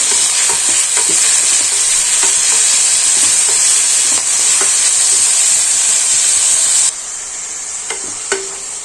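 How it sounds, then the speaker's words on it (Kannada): Coriander and other leafy greens fry in oil in a pan for a foxtail millet and fenugreek dish, a loud steady sizzle with repeated spatula scrapes and taps that drops in level near the end. "ಸ್ವಲ್ಪ ಸೊಪ್ಪೆಲ್ಲ ಚೆನ್ನಾಗಿ ಫ್ರೈ ಆಗಿ ಸ್ವಲ್ಪ ಆಯಿಲ್ ಬಿಡಬೇಕು"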